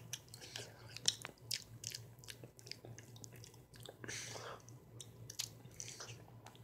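Close, quiet mouth sounds of someone eating chili nut M&M's: crisp bites followed by a stretch of moist chewing and crunching in an uneven rhythm, with no talking.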